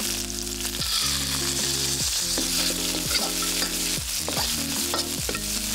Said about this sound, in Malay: Tumis paste sambal tadi sampai naik bau.